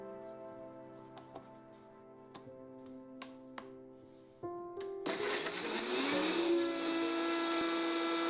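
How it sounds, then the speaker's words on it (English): Bell pepper blended with a little water into a puree: a few light clicks and taps at first, then the blender motor starts abruptly and whirs loud and steady, its pitch rising as it spins up. "we're going to blend it with a little bit of water in order to create a bell pepper puree"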